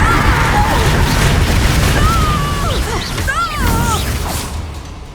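A Confringo blasting spell bursts in Hogwarts Legacy, a loud, booming explosion mixed with whooshing spell effects and swooping tones over continuous dense battle noise.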